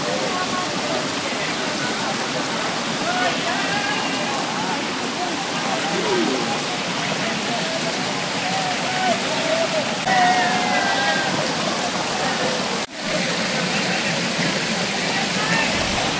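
Water pours down steadily from above at Jata Shankar waterfall, a loud, continuous rushing roar that fills the whole stretch, with faint voices beneath it and one brief dropout near the end.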